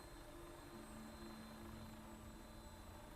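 Quiet, steady engine drone of a Vertibird aircraft taking off in Fallout 4, a low humming whine with a faint rotor-like rumble, constant and distant-sounding throughout.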